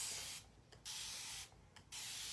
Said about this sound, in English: We're going to use our little spritzer bottle, and we're going to go ahead and spray